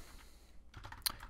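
Quiet typing on a computer keyboard: a short, soft burst of key clicks, the last few slightly sharper. No one speaks over it.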